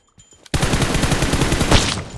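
A rapid burst of automatic gunfire erupts in the PUBG Mobile video game after a brief quiet moment, sustained, loud and close, with a dense rattling rhythm.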